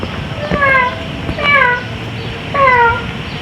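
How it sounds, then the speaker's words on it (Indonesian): Three drawn-out cat meows in a row, evenly spaced and fairly close, over a low background murmur. "tiba-tiba kamu mendengar ada suara kucing. Meow, meow, meow. Suara itu semakin dekat, semakin besar,"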